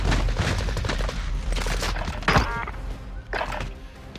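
Video game gunfire in a Warzone duos match, a burst of overlapping shots and impacts from several guns close by, with a few sharper cracks punching through the dense battle noise.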